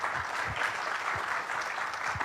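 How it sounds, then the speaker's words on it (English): Dense, even applause from an audience at a state business association's annual meeting, continuous clapping held at a steady level. "Give a big round of applause."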